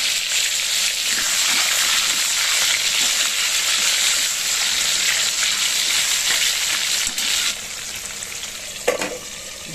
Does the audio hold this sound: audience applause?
no